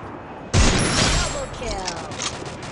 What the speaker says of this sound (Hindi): स्नाइपर के दो शॉट